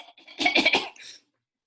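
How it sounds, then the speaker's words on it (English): A woman coughs after taking a drag from a joint: a short burst of two or three close, harsh coughs, fairly loud, with no other voice. "She takes a drag, then coughs."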